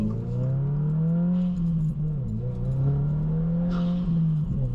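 A Subaru WRX VB engine pulls under throttle during mountain driving, its loud, close drone rising and falling in pitch with two brief dips between pulls, with no talking.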